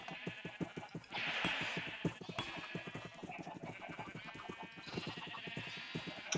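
Repeated sheep bleats from a flock in Minecraft, several overlapping calls at a steady pace over constant game background sounds, fairly loud and continuous throughout.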